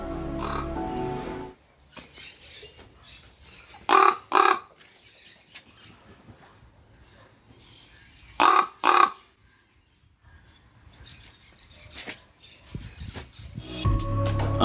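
A crow at a zoo gives two short paired calls, spaced a few seconds apart, each clear and fairly close over a quiet background.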